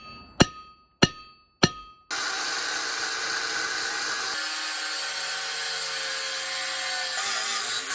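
A hammer gives three sharp, evenly spaced metallic whacks to a drive shaft U-joint on a 1970 Dodge D-100 pickup, then a loud, steady, shrill machine-like noise starts and runs to the end.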